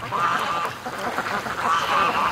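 Many ducks quack continuously beside a creek, a busy overlapping chorus of nasal calls at moderate distance with no talk.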